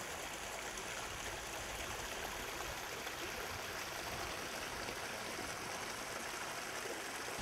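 Water trickles and cascades steadily in a backyard pond with a built waterfall, a continuous even rush with no pauses and no voices.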